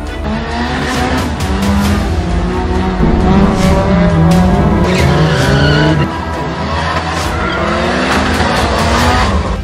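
A car drifts with its tires skidding and squealing, loud and close, with a wavering high screech over a roaring engine that swells and shifts across the run.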